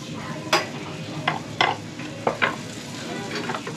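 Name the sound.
eggs frying in a pan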